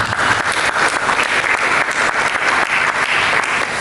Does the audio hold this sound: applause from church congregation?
yes